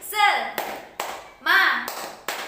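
An Indonesian classroom clapping chant, the tepuk semangat, sounds as a voice calls out rhythmic syllables punctuated by several crisp hand claps, each clap sharp and close, alternating with the chanted words.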